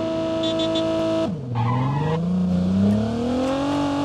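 Car engines in the Call of Duty Mobile battle royale game hum steadily, then drop in pitch and rev back up as a vehicle accelerates, sounding continuous and fairly loud with no talk.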